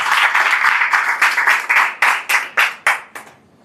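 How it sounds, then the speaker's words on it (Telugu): A church congregation claps loudly in unison to praise God, several seconds of dense applause breaking into slower, separate claps that fade out. "అందరూ కూడా గట్టిగా చప్పట్లు కొట్టి దేవుని మహిమపరచండి"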